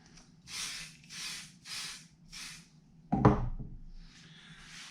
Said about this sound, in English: Now I'm going to spray accelerant the back of this.